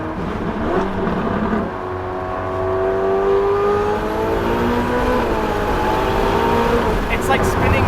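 A 900hp Ferrari F8 Tributo with Pure Turbos accelerates hard, its engine note rising steadily and droning loudly from inside the car while people talk over it.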